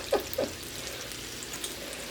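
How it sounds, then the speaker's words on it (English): Meatballs frying in a pan, browning as they are turned, give a quiet, steady sizzle with a couple of brief soft clicks near the start. "fry our meatballs and keep turning them so that they get browned on all sides"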